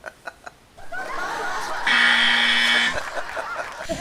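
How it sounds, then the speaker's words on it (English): A game show buzzer on a quiz-style panel show sounds one steady electronic tone lasting about a second, loud and close, amid chuckles and talking. "Yeah, I like that buzzer."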